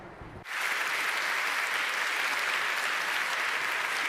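A dense, steady wave of audience applause for a singer at the OVHcloud Summit 2023 keynote, swelling in abruptly after a brief quiet lead-in and holding evenly at moderate volume.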